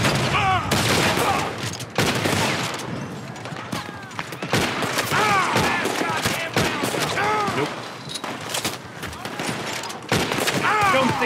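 Gunfight with lawmen in Red Dead Redemption 2: rapid bursts of gunfire and sharp shots crack back and forth continuously, with shouting voices and game sounds mixed throughout the chaotic exchange.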